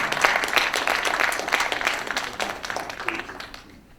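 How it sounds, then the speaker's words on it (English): A school community audience applauds speaker Kevin Fisher with sustained clapping that gradually fades out toward the end, a voice faintly heard among the claps. "Can we give Kevin a round of applause one more time?"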